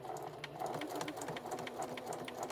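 A sewing machine runs steadily along the seams of a teddy-style memory bear, reinforcing the stitching past the ear with an even, rapid clatter, close and continuous, with no voices.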